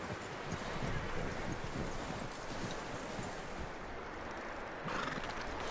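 A horse whinnies while hooves clip-clop steadily in the video game Red Dead Redemption 2, with rustling and a broad, noisy outdoor background throughout.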